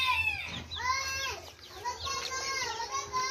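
Young Rhode Island Red chickens on a farm cluck and chirp in a continuous chorus of repeated close calls, with a faint low hum underneath.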